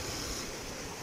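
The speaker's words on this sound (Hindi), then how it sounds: "काफ़ी ज़्यादा पानी है और बहाव भी तेज है।" Rushing stream of rainwater flowing fast and heavy after a downpour near Medina, a steady broadband roar of churning water with a windy, hissing edge, continuous and close, with no voices.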